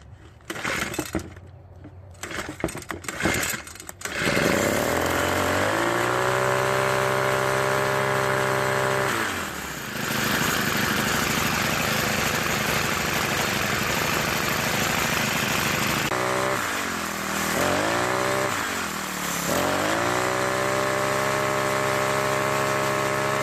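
A gas string trimmer engine, just refueled after a fuel leak, runs loud and close for most of the clip, holding a steady drone with a few quick dips and rev changes, after a short burst of rattling starting noise.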